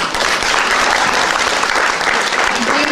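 An audience at an award ceremony for artistic work by disabled people gives loud, sustained applause, with a voice faintly audible beneath the clapping.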